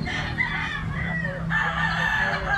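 A ten-month-old stag, a young gamefowl rooster, crows loudly and close by, its strained call stretching across the moment over a background of other roosters crowing and clucking on a farm.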